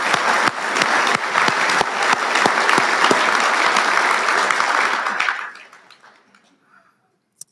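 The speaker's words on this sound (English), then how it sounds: "Folks, please, another round of applause." Loud, dense audience applause fills a room at an awards dinner, steady for about five seconds before fading quickly into near silence.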